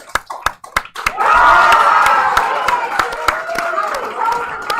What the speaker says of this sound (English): the cheers from the crowd got her through that